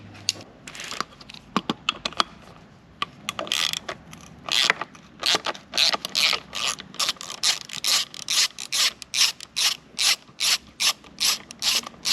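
A hand ratchet works carburetor bolts loose on a Yamaha 15 outboard motor, first scattered clicks and then a steady run of rapid, close ratcheting bursts in even rhythm.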